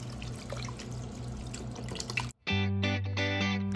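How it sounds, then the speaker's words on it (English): Vegetable broth is poured into a pot of four-bean vegetarian chili, a steady liquid rush for about two seconds, then a brief gap before a louder run of pouring and splashing. "Add vegetable broth."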